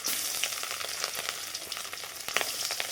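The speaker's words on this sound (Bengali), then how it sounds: "গরম তেলে মাছগুলো দিয়ে দিচ্ছি" Fish seasoned with turmeric and salt crackle and sizzle steadily in hot oil in a pan, a dense, close frying hiss with small popping spatters and no talk.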